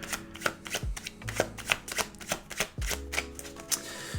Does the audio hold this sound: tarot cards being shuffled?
yes